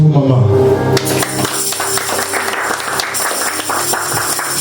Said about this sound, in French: Acclamons pour maman.